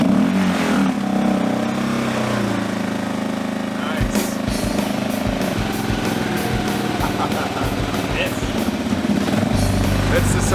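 A motorcycle engine finally catches and runs, settling into a loud, rough, uneven idle with rapid pulsing firing close by and a voice talking over it.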